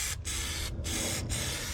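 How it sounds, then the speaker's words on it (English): All-purpose black rubber coating hisses from an aerosol spray can in three close, steady bursts separated by brief pauses, loud and alone without any talk. "And we'll go ahead and spray this on."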